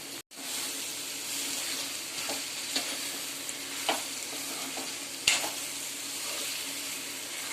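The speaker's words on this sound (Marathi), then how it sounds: "आता आपण केळी टाकून घेऊया आणि मस्त मसाल्यात परतून घेऊया" Raw banana pieces sauté in oily masala in a hot pan, giving a steady, close sizzle with frequent stirring scrapes and clinks, and no talk.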